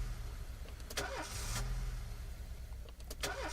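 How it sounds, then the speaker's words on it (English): A car engine starting in the police game This is the Police, a cranking start rising into a steady low idle, close and fairly quiet, with a couple of sharp clicks and mechanical clunks over it and no talk. "Let's get this car started."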